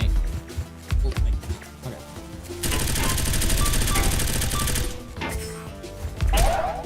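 Rapid SMG fire in the shooter game Black Ops 7, a dense sustained burst in the middle flanked by shorter shots and game effects, loud and close.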